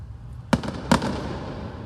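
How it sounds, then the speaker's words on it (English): Two sharp firework bangs about half a second apart, each followed by brief crackling, fairly distant against a quiet background. "A lot of fireworks."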